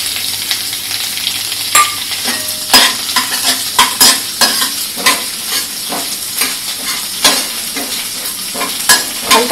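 Garlic frying in hot oil in a pan while being stirred for masala rice, a steady close sizzle broken by frequent scraping stirs of the spoon against the pan.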